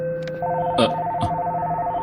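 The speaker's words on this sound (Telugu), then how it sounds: "ఉదయాన్నే ఫోన్ రింగ్ అవుతోంది" A phone gives a steady electronic ring tone, close and clear, with a couple of short clicks or knocks over it.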